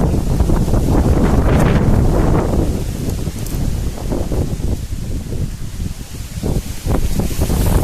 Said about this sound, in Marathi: आणखी वारं तुम्हाला त्याच्यात आवाज सुद्धा व्यवस्थित ऐकू येणार नाही वार आहे